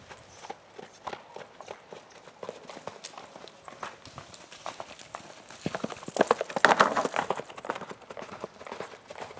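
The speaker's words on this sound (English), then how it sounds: "she is not doing a nice slow canter" A mare canters on a cutting-and-roping event ground. Her hoofbeats are rapid and uneven, moderately near, and grow louder and busier toward the end.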